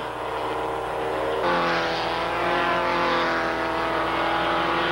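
A Porsche 944 race car in the 1986 Canadian Rothmans Porsche 944 series roars around the circuit, its engine droning steadily and then surging higher as it accelerates past, loud and close, with no voices over it.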